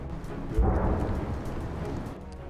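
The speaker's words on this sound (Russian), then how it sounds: "Недолгий полет и взрыв где-то там," A deep, muffled boom from a distant mortar shell rolls in after a short pause, like a far-off explosion, then fades into a long low rumble.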